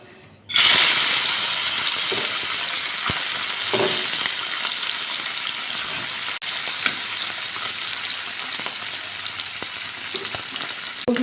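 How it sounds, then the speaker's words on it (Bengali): Fish hits hot oil in a wok and erupts into a sudden, loud, crackling sizzle that holds steady for several seconds, with occasional sharp pops and spatula taps, close by and alone. "তেলটা গরম হয়ে গেছে আর মাছগুলো দিয়ে দেবো"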